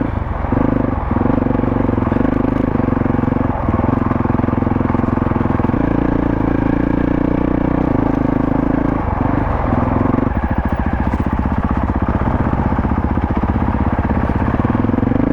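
A Honda CRF 450RL and a Kawasaki KLR 650 dirt bike riding a side trail, one loud, close engine droning and shifting pitch throughout, with clattering from the rough ground.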